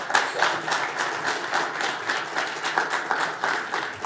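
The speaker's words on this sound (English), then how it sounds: "how about a big round of applause for our hand drummers here today" Crowd applause for hand drummers at a Mi'kmaq gathering, steady moderately loud clapping from many hands with a rhythmic flutter, continuing evenly for several seconds.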